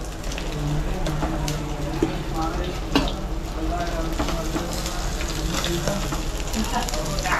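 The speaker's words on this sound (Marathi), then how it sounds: "या साईडला आपण बघू शकता आपली मासळी फ्राय होत आहे." Big fish frying on a tava griddle at Velankanni Lodge, giving a steady, dense sizzle throughout with a few louder pops and some indistinct background voices and kitchen noise.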